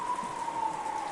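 Steady rain falling in the visual novel game Umineko When They Cry, an even, close hiss that holds without a break for about a second.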